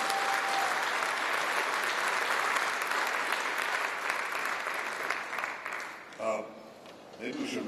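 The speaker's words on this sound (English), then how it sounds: "You can clap. You can applaud." Audience at a gala evening in Jerusalem breaking into sustained, dense applause that fills the hall for several seconds, then thins out as a voice resumes.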